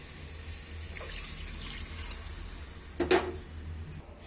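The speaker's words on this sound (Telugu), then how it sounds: "సరిపడే అన్ని నీళ్ళు వేసుకుందాం." Water poured into a cooking pot for a rice dish, a soft steady trickle with a brief louder splash near the end, close by and with no talking.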